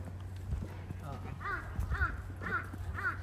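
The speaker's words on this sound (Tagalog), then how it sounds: "Tapos yung uwak nila may puti dito." Repeated harsh caws from a crow, about four calls in a steady rhythm, over low rumbling background noise and some faint talk, on Nami Island.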